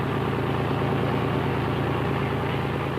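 A Rajang River express boat's multi-cylinder Caterpillar or Rolls-Royce engine, rated in the hundreds of horsepower, runs with a loud, constant low drone and throb that stays even and unbroken throughout.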